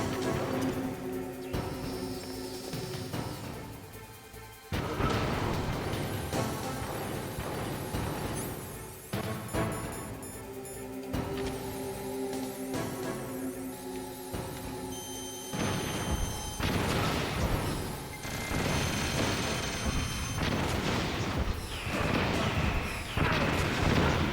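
Missile explosions in Metal Gear Solid boom repeatedly amid gunfire-like bursts and crashing impacts, dense and loud battle noise stretching throughout with game music beneath.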